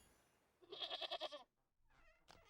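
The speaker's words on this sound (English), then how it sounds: "It's a goat." Goat bleating in the video game Wytchwood, one wavering close bleat followed after a short pause by a fainter, shorter second call.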